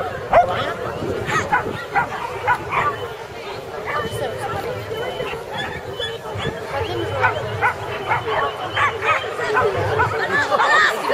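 A small dog barks and yips repeatedly in a busy setting, its sharp calls scattered over steady background chatter and low rumble.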